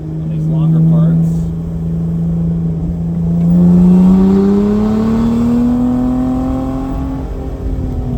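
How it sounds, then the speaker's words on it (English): A Lotus car engine holds high revs in second gear under engine braking, a loud, steady droning whine that sags and then climbs again over several seconds. "Keep it in second gear most of the way for the engine braking. Kind of riding the top of the rev range on these longer parts."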